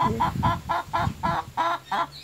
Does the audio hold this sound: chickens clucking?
yes